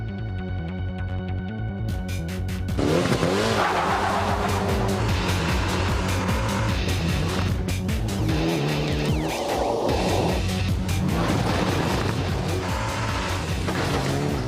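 A Group N Mitsubishi Evo 7 rally car weighing just over 1,000 kilos with permanent four-wheel drive, its engine loud and close, revving hard through gear changes with throttle blips and steady harmonic roar.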